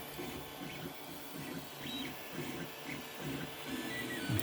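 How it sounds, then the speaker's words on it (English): A 3D printer prints with a 255-degree nozzle and 80-degree bed near the end of a nine-hour job, giving a steady mechanical hum with recurring soft stepper-motor whirs and shuffles, fairly close, with no talking. "We're printing it according to that 255 degrees on the nozzle and 80 on the bed."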